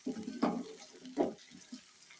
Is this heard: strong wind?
no